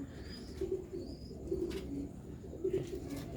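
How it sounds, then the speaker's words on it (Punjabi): A Sialkoti Batere Ali pigeon of an old bloodline coos in soft, low, rhythmic pulses, repeating several times over a faint background hum. "ਦੋਸਤੋ ਹਾਈ ਲੈਵਲ ਦਾ ਬਟੇਰੇ ਅਲੀ ਵਾਲੇ ਕਬੂਤਰ ਨੇ"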